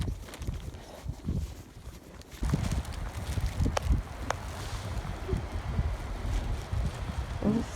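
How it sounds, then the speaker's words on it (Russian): Blizzard wind gusts and buffets the microphone during a snowstorm near Moscow, with crunching footsteps in snow and no speech. "Смотрите, какая метель идет."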